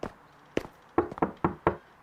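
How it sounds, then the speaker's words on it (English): Knuckles rapping on a house door: one knock, then a quick pair, then four evenly spaced firm knocks, close and clear with nothing else around them. "Ta is walking up to the house and knocks on the door."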